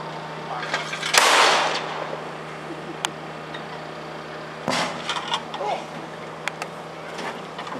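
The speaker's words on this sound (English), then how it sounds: "we're going to let you see this mortar in operation, and a fire from there" Mortar fired in a live weapons demonstration before bleacher spectators, heard as a sharp loud blast with a short rumbling tail, then a second fainter report a few seconds later amid distant crowd murmur.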